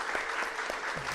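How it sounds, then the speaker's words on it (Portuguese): Church congregation applauding birthday celebrants during a Sunday service, a steady wash of many hands clapping at moderate distance, fairly quiet, with a faint voice briefly underneath. "E uma salva de palmas para os nossos aniversariantes"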